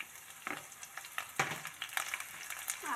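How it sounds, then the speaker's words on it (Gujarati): Green chillies fry in a pan with onion for kantola sabji, giving a soft steady sizzle broken by sharp crackles and pops as they are stirred, with no talk. "મરચાંને પણ આપણે થોડીવાર શેકાવા દઈશું"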